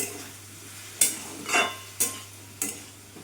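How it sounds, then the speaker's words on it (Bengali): Chopped tomato and green chilies stirred in a frying pan: four distinct scraping strokes of a utensil, spaced about half a second apart, over a faint steady sizzle, close and alone. "একটা টমেটো কুচি দিয়ে দিলাম ভালো করে মিশিয়ে নেবো নাড়াচাড়া দিয়ে"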